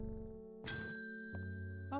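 Bell chime in the occult puzzle game Strange Horticulture: a bright ding rings out and decays, followed by a couple of softer tonal notes over a sustained musical background.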